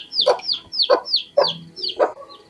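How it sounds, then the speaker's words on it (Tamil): Chickens with chicks clucking in a short series of four or five rhythmic bursts, each call dropping in pitch, close and fairly loud with no talk over them. "2 கோழி குஞ்சு இருக்குது."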